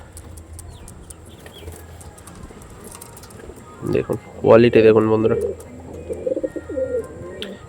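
Kalshira pigeons of Andhra breed, including young birds, coo in soft throaty bursts close by, with a brief flutter, while someone talks over them.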